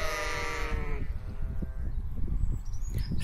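Ram giving one loud, close bleat lasting about a second, followed by fainter bleats and shuffling livestock noise in the pen.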